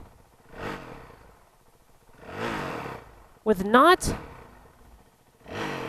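A 2019 Honda CRF 450L motorcycle engine revs up in a few short throttle bursts, separated by a man's speech, with one sharp loud rise near the middle.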